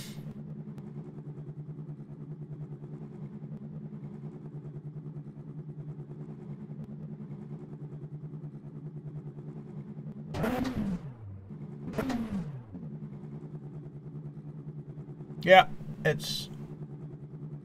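Race car engine idling in an endurance racing game at Le Mans, a steady low hum throughout, with someone talking briefly over it near the end.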